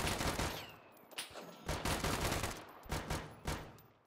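Repeated gunfire in the video game DeadSide, with several loud broadband bursts and rapid volleys spread through the clip and no talk over them.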